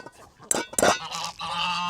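Ducks and drakes near a backyard coop let out loud, harsh, honking quacks in two quick bursts, followed by a sustained nasal call, close by.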